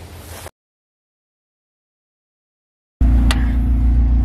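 A car engine running without its stolen catalytic converter gives a loud, harsh, droning rumble close by, cut off by a few seconds of silence before it returns steady and raspy.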